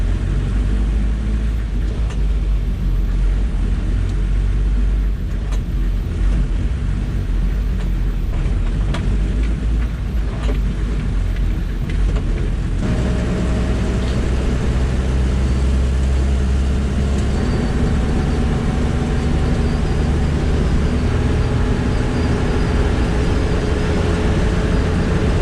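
The HJ45 vehicle's engine while driving on a Florida highway, a loud, steady low rumble with road and wind noise throughout, close and continuous with no talking.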